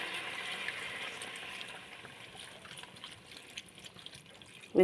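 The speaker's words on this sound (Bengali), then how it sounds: "পরে আমি এর মধ্যে জল দিয়ে দিলাম" Water runs and splashes into a pot in a soft, steady stream for a few seconds, fading a little before a brief clunk at the end.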